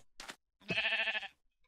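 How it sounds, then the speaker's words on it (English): A sheep in a custom video game map gives a single loud, wavering bleat just after a short breathy noise, close and clear, with no talk. "I hear you, Mr. Sheep, loud and clear."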